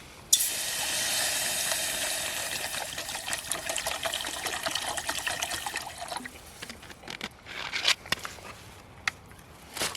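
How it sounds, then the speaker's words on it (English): Loud hissing sizzle that drops away abruptly as water is added to a hot pan, followed by scattered crackles and pops, while cooking at a riverside camp. "Got a bit of sizzling going now. Add a bit of water to cool it down."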